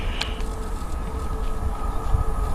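Class 800 five-car train approaching fast through a Welsh station, a steady loud rumble of wheels and a high hum rising as it nears, a brief bright squeal near the start.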